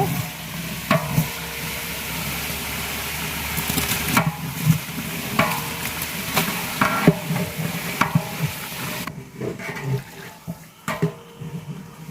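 Spiced masala paste sizzles and fries in a large pan while being stirred and scraped, cooking iftar for thirty families; the loud, rough frying continues throughout with repeated stirring strokes and no talk.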